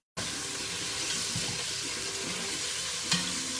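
Chicken browning in a hot pan for Creole jambalaya, a steady close sizzle with a faint clink near the end and no speech.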